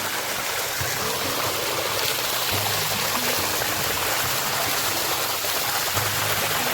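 Continuous rushing of hot spring water flowing around the clock at Vansda, Gujarat, dense and close, a steady wash of noise with no pauses.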